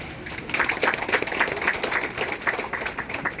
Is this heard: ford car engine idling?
no